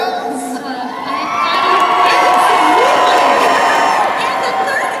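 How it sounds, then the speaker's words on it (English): A convention masquerade audience at a battle-of-the-bands contest cheers and shouts loudly, a dense roar of voices with high whoops and children's yells that swells and stays strong throughout. "We cheer loud enough, they'll perform one of their own favorites for us"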